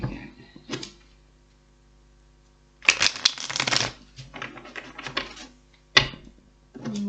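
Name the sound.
shuffling tarot cards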